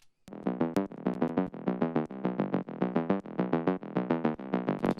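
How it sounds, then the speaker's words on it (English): An Omnisphere bass patch plays quick, evenly spaced plucks with bright upper harmonics in a driving repeated pattern, with no voices over it. "the next one that I have here is an Omnisphere bass patch"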